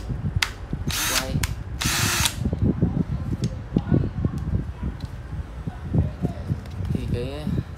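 Ryobi cordless drill running in rotation mode, with loud bursts of whirring near the start and talk continuing over mechanical noise throughout.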